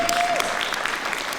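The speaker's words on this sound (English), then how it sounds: "Everybody should clap for Joey Clift." Audience applause at a conversation event, a brief burst of clapping from a crowd with a faint tone at the start, moderately loud and continuous.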